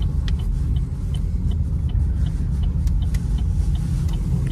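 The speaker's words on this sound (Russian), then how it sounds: "Вот отпустил газ, нажимаю, идет пинок, и она начинает ехать." A Chevrolet Cruze pulls away as the gas pedal is pressed, giving a steady low engine rumble with constant road noise close by and no talk.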